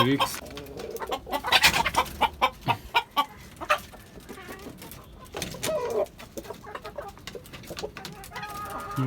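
Chickens kept on a rooftop cluck repeatedly in bursts, close and fairly loud, with quieter gaps between the calls.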